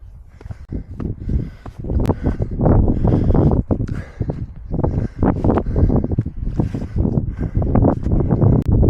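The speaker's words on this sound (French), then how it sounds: "j'ai le vent dans le dos" Strong gusting wind buffets the microphone in heavy, uneven rumbling bursts, loud and close, with no voices.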